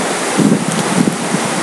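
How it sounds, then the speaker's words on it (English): Strong wind outdoors in a backyard garden, a loud continuous roaring rush buffeting the microphone with uneven gusty surges and no voices. "It is really windy out today."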